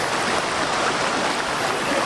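Steady broadband rush of a flowing river stream at Malino Hills, a continuous close wash of water with no voices or other sounds over it.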